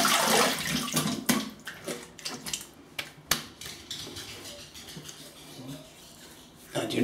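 Running tap water splashes as a face is rinsed after shaving, with irregular splashes and clinks, close and moderately loud, ending with a louder gush.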